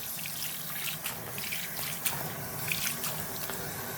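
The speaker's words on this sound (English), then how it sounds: "we could run some cold water here in a minute" A cold-water tap runs steadily into a sink, a broad continuous splashing hiss with small irregular drips and trickles, close by and alone.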